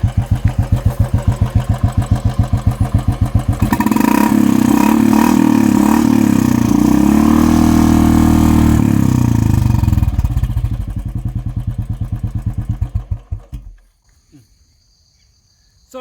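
A Royal Enfield Bullet fitted with a Red Rooster Performance aftermarket exhaust idles with a loud, even thumping beat, swells into a louder rev, settles back to idle thumps, then cuts off into near silence.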